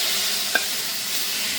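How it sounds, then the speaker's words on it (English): Chicken browning in a hot pan gives a steady, even sizzle throughout, with one brief scrape or clink of a utensil partway through and no talking. "See? We got the sizzle."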